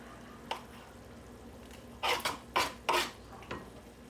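Pots and a frying pan are knocked and shifted while cooking, giving one light clank followed by three louder metallic clatters in quick succession, with no talking.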